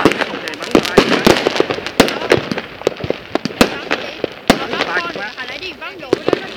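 Fireworks set off in 2016 crackle and pop in a rapid irregular series of sharp bangs, some loud and close, with people talking and exclaiming between the bursts.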